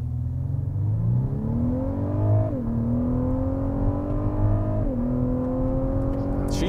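The twin-turbo V6 of a 2021 Lexus LS 500 revving during a brake boost, a steady loud droning engine note that climbs in pitch, dips briefly twice, then rises again, with no talk.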